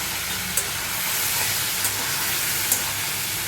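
Okra sizzles in hot oil with cumin seeds: a steady, moderately quiet hiss with a few faint pops scattered through it.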